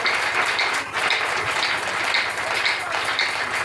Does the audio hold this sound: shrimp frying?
no